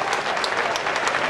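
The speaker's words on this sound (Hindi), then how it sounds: "आप तालियां बजाएं, हम चेतना को आमंत्रित करें।" Audience applause for a poet at a Kavi Sammelan poetry gathering at BHU, steady dense clapping from a large crowd filling the whole short stretch without a pause.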